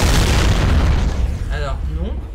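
A loud, booming explosion effect from a parody edit of Jurassic Park, a heavy blast that fills the start and then rumbles and fades, with a voice cutting in near the end.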